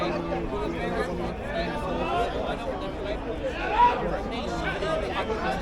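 Steady crowd chatter at Speakers' Corner in London, a dense outdoor babble of many overlapping voices at moderate distance, continuous throughout with no single voice standing out.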